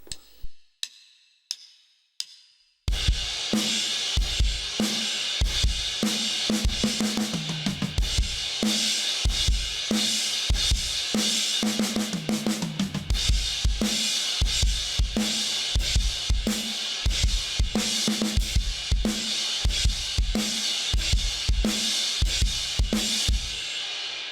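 A few count-in clicks, then a full drum kit kicks in with a steady groove of kick, snare and cymbals from a song, loud and continuous.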